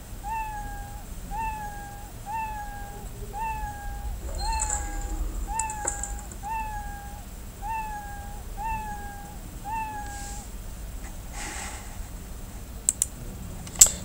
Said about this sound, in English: we can then play the sound, which is meow